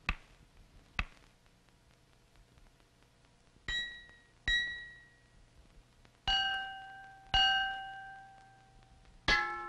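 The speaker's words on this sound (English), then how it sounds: "The larger glass objects have a deeper voice because they vibrate more slowly when hit." Glass objects of different shapes and sizes are struck one after another, giving sharp clangs and ringing pings with short decays. The larger pieces give deeper tones and the smaller ones brighter tones. The strikes come at irregular intervals and sound clear against a quiet background.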